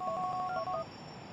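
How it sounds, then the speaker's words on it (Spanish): A phone number dialed on a mobile phone in Grand Theft Auto 4: a quick run of clear keypad tones lasting under a second, followed by quiet background hum. "¿Cómo llamo así, como marcando un número?"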